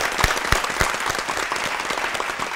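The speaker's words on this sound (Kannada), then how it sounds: "ಮತ್ತೊಂದ್ಸಲ ಬರಲಿ ಜೋರಾದ ಚಪ್ಪಾಳೆ." A studio quiz-show audience breaks into loud, dense applause, steady clapping that fills the whole stretch with a few sharper individual claps standing out near the start.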